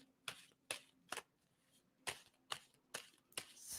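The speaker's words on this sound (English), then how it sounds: "And tell me to stop shuffling." A deck of tarot cards is shuffled close by, giving a series of sharp riffling bursts in an uneven rhythm, each separated by brief quiet gaps, faint overall with no talking.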